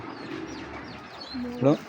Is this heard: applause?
no